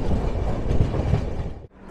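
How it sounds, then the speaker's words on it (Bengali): Patna-Howrah Vande Bharat express 22348 rushing past on the adjacent track, a loud, dense roar of wheels and rushing air heard from inside a moving train, cutting off abruptly near the end. "পাটনা হাওড়া বন্দে ভারত ক্রস করলো আমাদের।"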